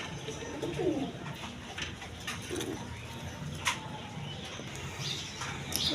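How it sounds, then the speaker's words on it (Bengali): Soft, low pigeon coos sound close by over a constant background hum, with occasional light rustles and chirps. "এখানে আরেক পেয়ার কবুতর আছে"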